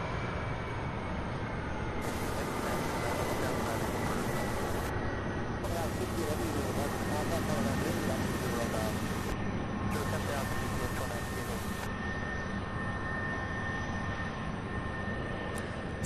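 An Airbus A300 jet on a daily afternoon flight to San Juan gives a steady, loud broadband roar at Louisville airport, with a constant high whine and noise throughout and no break.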